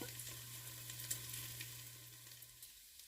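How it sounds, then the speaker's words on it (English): Bacon sizzles softly in a pan as its fat renders out, a low, even frying hiss with a faint hum underneath and no voices. "Once I've gotten all the fat rendered out of the bacon"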